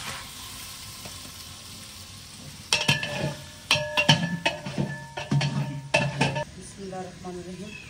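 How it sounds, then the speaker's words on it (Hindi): Garlic tipped into browned onions frying in a pot over a steady background sizzle, followed by several loud bursts of metal spoon scraping and clanking as the mix is stirred. "प्याज अल्हम्दुलिल्लाह ब्राउन हो गए, इसमें डालेंगे हम लहसुन।"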